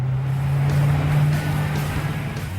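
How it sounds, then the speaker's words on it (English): A Koenigsegg Agera R's 5-litre supercharged V8 idling, heard from inside the cabin as a deep steady bass hum with a faint higher whine, loud and continuous. "When you fire up the engine, of course, the cabin fills with engine sound."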